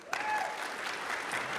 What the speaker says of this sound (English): Round of applause for Karina Bradley.